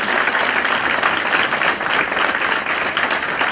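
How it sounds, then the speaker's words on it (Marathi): Audience applause at a housing society self-redevelopment gathering, a dense, steady burst of many hands clapping at close range, sustained throughout with no talk over it. "त्यांच्यासाठी जोरदार टाळ्या"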